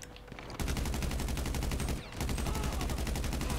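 Sustained rapid gunfire from a marksman rifle in GTA 5 Online, a short quiet opening then dense repeated shots running almost continuously, broken by one brief pause before resuming loud and close.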